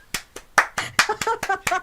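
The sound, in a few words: applause, clapping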